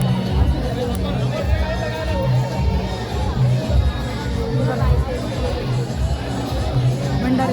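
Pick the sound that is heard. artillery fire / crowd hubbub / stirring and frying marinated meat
crowd hubbub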